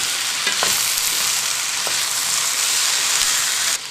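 Steady loud sizzling of vegetable samosa filling frying in a hot pan, with a few soft scrapes of stirring cutting through the continuous hiss.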